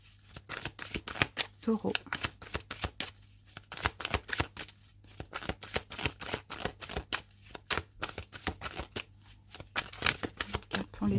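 A tarot deck is shuffled by hand in rapid bursts of riffling card snaps, close and crisp, continuing for several seconds while someone speaks quietly.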